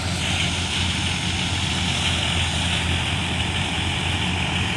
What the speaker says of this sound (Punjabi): ਇਹ ਬਲਾਰਸ ਟਰੈਕਟਰ ਇਹ ਜਦੋਂ ਮੋਟਰ ਜ਼ਿਆਦਾ ਲੱਗਦੀ ਹੈ ਤੇ ਧੂੰਆਂ ਮਾਰਨ ਲੱਗ ਪੈਂਦਾ